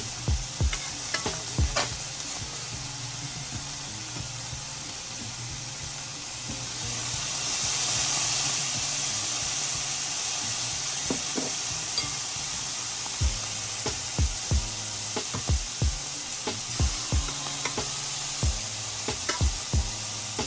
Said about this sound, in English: after I finish frying all these shrimp